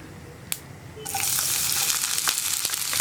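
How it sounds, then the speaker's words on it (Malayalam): Crushed garlic and shallots drop into hot oil with mustard seeds and burst into a loud, steady sizzle after a quiet start with a single light clink, continuing close and unbroken with no talking. "ഈ സമയത്ത് നമുക്കിതിലേക്ക് നമ്മൾ ചതച്ച് വെച്ചിരിക്കുന്ന വെളുത്തുള്ളിയും ഉള്ളിയും ചേർത്ത് കൊടുക്കാം"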